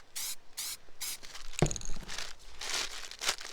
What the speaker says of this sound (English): Take our plastic bag out.